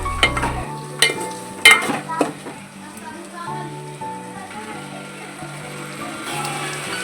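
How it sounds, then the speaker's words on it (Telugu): Ridge gourd pieces stirred in a frying pan with tomatoes, a few sharp spoon scrapes and clinks over a low sizzle, with background music and a voice talking. "అప్పుడు బీరకాయ ముక్కలు వేసుకోవాలి కొంచెం కొద్దిగా కలుపుకున్నాము"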